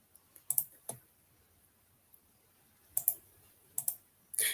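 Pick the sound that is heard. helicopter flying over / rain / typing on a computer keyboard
typing on a computer keyboard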